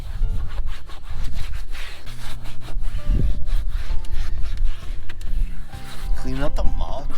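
A car interior is scrubbed and wiped with Griot's Garage Interior Cleaner, giving steady rhythmic rubbing strokes close by while a voice talks intermittently over them.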